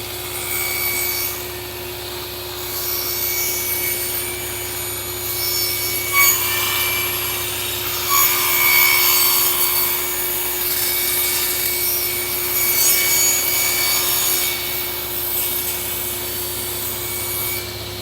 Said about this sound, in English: So let's fire up the vacuum, and fire up the saw, and give it a pass.